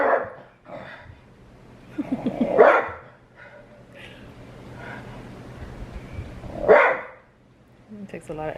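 A dog barks a few times in a home, short loud yelps standing out from a steady background hum, with people talking in between.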